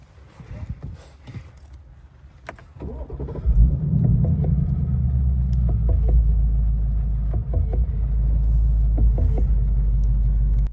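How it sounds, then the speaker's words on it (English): A 2025 Ford Mustang Dark Horse's 5-liter V8 cranks and fires up with a loud, deep roar, then settles into a steady rumbling idle close by. "The noise this 5-liter V8 makes when you first start it up is really something to behold."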